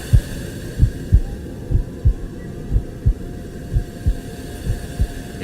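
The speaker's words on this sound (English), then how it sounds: "your heartbeat." A steady heartbeat thumps about ten times in quick, regular succession, close and muffled over a low continuous hum.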